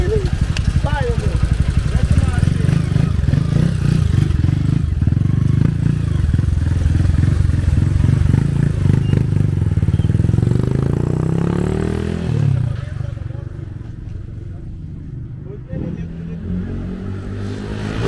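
A Honda FAN 160 motorcycle fitted with a 205cc kit engine revs hard and loud nearby, a sustained rising engine roar through most of the run that drops to a lower idle near the end, with voices over it.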